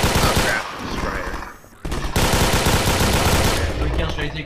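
Rapid, dense bursts of heavy gunfire from a Strider in Garry's Mod, loud and close, nearly continuous, with a brief drop-out near the middle before the barrage resumes.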